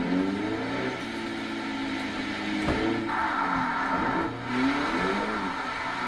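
A drift car engine in Forza Horizon 3 revs and drones steadily, its pitch rising and falling with throttle and tyre noise, fairly loud and continuous with no talking.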